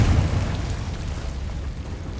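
A booming Confringo explosion spell from Hogwarts Legacy, a loud, close burst with a rumbling low-end tail that fades over about two seconds.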